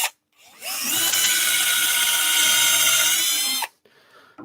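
A power drill with a spiral bit bores into clogging pine. One sustained, close, loud grinding whine lasts about three seconds, then stops abruptly, leaving faint rustling.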